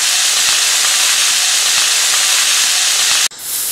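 A homemade steak sizzling in a hot frying pan, giving a loud, steady, close hiss that holds evenly and then drops out abruptly near the end before resuming more softly.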